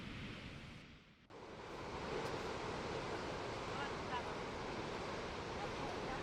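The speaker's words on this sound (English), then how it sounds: "the huge waves are often unpredictable" Huge ocean waves break and surge against rock shelves along a wild coastline, a loud, continuous roar of surf and spray with wind buffeting the microphone and a brief dip before the crash builds again.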